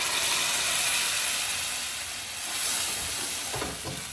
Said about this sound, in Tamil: அந்த இஞ்சி பூண்டு வாசம் வராத அளவுக்கு நல்லா வதக்கி கொடுத்துக்கணும்